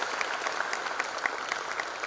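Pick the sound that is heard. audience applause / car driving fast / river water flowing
audience applause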